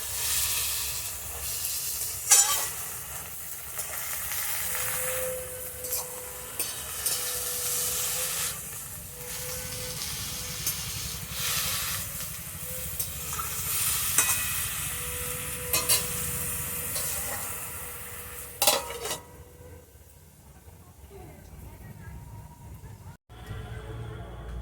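Salted greens steam and simmer under a lid in a pan, giving a steady, soft hiss with faint crackles and a few light knocks, and the hiss drops away near the end.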